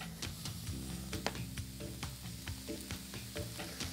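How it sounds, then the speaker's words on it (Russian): Mushrooms fry in a pan with a steady, close sizzle, salted while cooking. The crackle runs continuously throughout, and sharp spatter pops and light stirring clicks stand out from it. "И пусть они хорошенько обжарятся сейчас."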